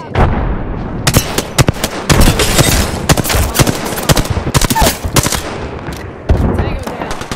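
Dense, loud gunfire in Apex Legends: rapid automatic bursts and sharp shots crowd the scene almost continuously, with a brief lull near the end before firing resumes, and a voice speaks over the battle.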